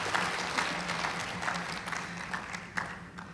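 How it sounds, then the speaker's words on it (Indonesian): Audience applause in a seminar hall after a tourism video is shown, a moderately quiet, steady patter of many hands with a few sharper claps standing out. "Jadi boleh tepuk tangan."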